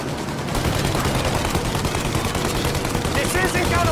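Sustained automatic gunfire rakes a plane's engines in a Mafia Definitive Edition shootout, a dense continuous rattle of shots with a game soundtrack underneath, loud and close.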